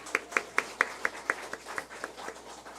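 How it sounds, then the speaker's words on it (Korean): A church congregation gives a short round of claps, about a dozen distinct hand strikes, closely spaced at first and then slowing and fading out. "박수 한번 해주세요."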